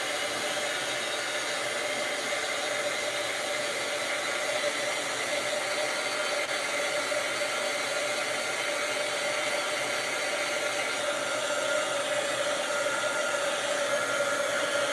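Hair dryer blowing on painted Dollar Tree craft pieces to dry them, a loud continuous steady whoosh and whine lasting throughout, with no talking.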